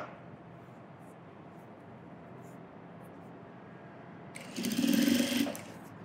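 Tailoring stitches run on a sewing machine: a low mechanical hum continues throughout, then a louder, close whirring burst of stitching lasts about a second before easing off.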